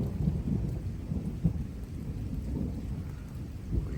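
Heavy July rain pours steadily on a North Texas ranch while deep thunder rolls underneath, a close, constant wash of drops with a low rumble swelling now and then.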